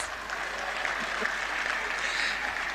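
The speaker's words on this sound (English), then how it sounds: "Please give me a round of applause." A lecture audience at an annual postgraduate lecture applauds, a steady, moderately distant wash of many hands clapping that continues evenly through the short stretch.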